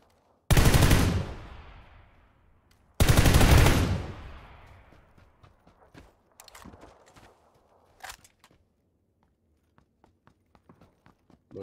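Video game gunfire aimed at the player: two loud, close bursts of rapid shots that trail off into scattered faint clicks and footsteps, with no talk.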